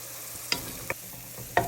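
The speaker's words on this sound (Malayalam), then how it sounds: "മസാലയും മുട്ടയും എല്ലാം കൂടെ നന്നായിട്ടൊന്ന് യോജിപ്പിക്കണം" Egg and masala being stirred together in a hot pan, a low continuous sizzle broken by three or four sharp spatula scrapes at uneven intervals, close up with no voices.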